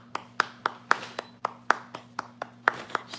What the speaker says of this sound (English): let's do a round of applause for Vanna Red as she gets the next package.